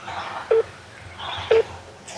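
Two short mobile phone dialing beeps sound about a second apart, clear and close over a soft background hiss, with no voices.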